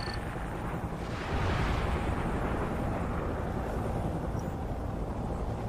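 A missile strike explosion in the Call of Duty Ghosts video game, heard as a sustained, loud, rumbling blast that swells after the first second and rolls on with dense low-end roar and no voices.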